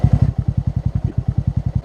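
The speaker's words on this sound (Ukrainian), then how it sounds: "Хто мене запитає, Андрюха, у тебе який мотоцикл?" A Bajaj Boxer motorcycle engine thumps in a fast, even pulse while riding off-road on a forest trail, loud and close, with no speech over it.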